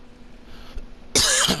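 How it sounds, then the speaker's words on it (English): One sharp, close cough bursts out near the microphone after quiet background sound, with a brief throat-clearing quality, over Farming Simulator 17 gameplay. "didn't mean to cough in y'all's ears there"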